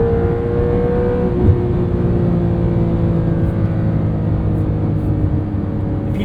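A 2022 Porsche 911 Carrera with PDK gearbox accelerating out of a corner, a steady close engine drone that rises gradually in pitch, heard from inside the cabin with no talk.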